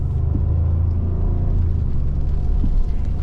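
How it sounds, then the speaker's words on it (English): 2023 Ford F150 Tremor 4x4 pickup with EcoBoost engine and 10-speed automatic accelerating, a loud steady low rumble heard from inside the cab, smooth and continuous. "And just a lot of power out of this EcoBoost."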